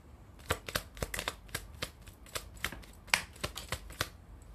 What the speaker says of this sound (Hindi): ऐसे उछल उछल के आते हैं ना कार्ड्स